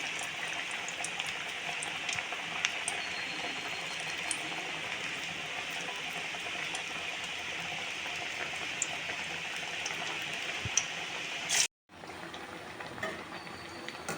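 Onion vadas fry in hot oil, a continuous bubbling sizzle that runs steadily for most of the stretch, then cuts out abruptly and resumes more quietly, with no one talking.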